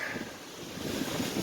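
Strong wind buffets a beach, roaring steadily over the surf with gusty rumble against the microphone, loud and continuous through the short stretch, no one speaking.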